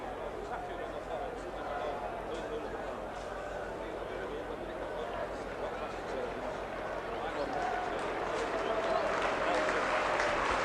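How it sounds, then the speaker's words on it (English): A rugby league crowd at a Lancashire Cup final gives sustained, distant applause for the defeated Warrington team, with spoken commentary over the clapping that swells slightly toward the end. "Sympathetic applause as Ken Kelly leads the defeated Warrington team to receive the losers' medals from Martin Ryan"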